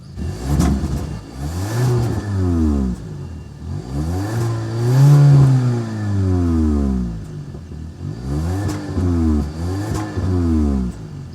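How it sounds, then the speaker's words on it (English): A 2023 Kia K5 GT-line with a 1.6-liter turbocharged four-cylinder starts up and revs repeatedly, each throttle blip rising and falling in pitch, with a strong, close exhaust note and no talking. "start up so you can hear that exhaust note"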